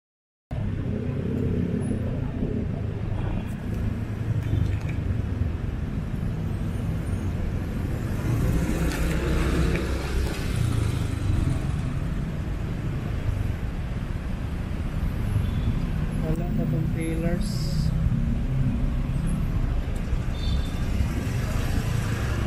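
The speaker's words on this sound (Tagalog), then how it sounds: "Grabe kayo ka-traffic." Heavy road traffic rumbles continuously on a Cebu City street in the Philippines, with cars and buses passing close, engines droning and a brief hiss of air brakes partway through.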